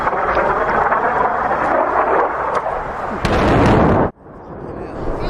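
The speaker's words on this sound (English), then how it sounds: "and the 2 more massive explosions" Massive airstrike explosions hitting a village, a sustained roaring blast rising to a loud peak and then cutting off abruptly, followed by lower rumbling aftermath.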